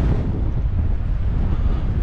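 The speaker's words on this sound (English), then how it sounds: "It's not the best of days, a bit windy." Steady, heavy wind buffeting the microphone on a shoreline, a constant low rumble with no breaks and no voices.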